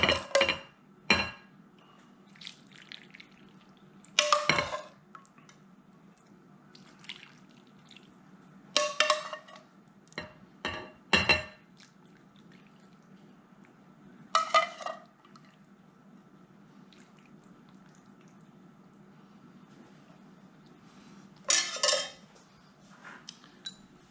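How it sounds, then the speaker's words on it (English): Tomato soup ladled over egg noodles in a bowl: a handful of separate clinks and pours from the ladle and dish, spaced across a quiet room, fairly close and crisp. "I'm just going to ladle this goodness over the noodles"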